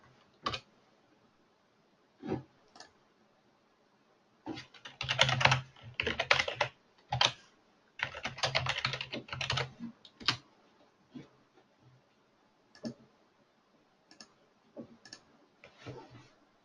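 A password is typed on a computer keyboard in bursts of quick clicking keystrokes separated by short pauses, close and fairly quiet, with scattered single taps toward the end.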